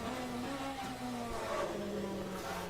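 A BMW race car in a multi-class endurance racing video game, its engine holding a steady mid-pitched drone with slight rises in revs, moderately loud and continuous, with faint commentary underneath.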